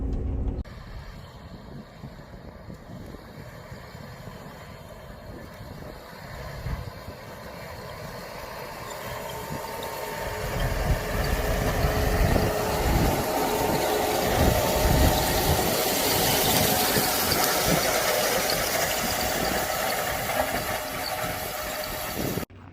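A steady tractor engine drones throughout with rumbling low-end noise in a dry, dusty field during winter barley harvest, growing somewhat louder and rougher midway through, no voices.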